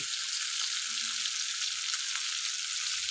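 Chicken pieces sizzle steadily in a pot as they are sautéed with a splash of water, a constant bright hiss of frying that continues evenly throughout without talk.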